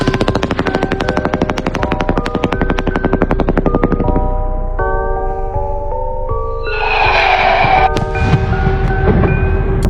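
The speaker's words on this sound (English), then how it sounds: "Strobe fireworks." Strobe fireworks fire in a fast, regular train of sharp pops, then give way to crackling bursts and faint whistling tones, loud and close throughout.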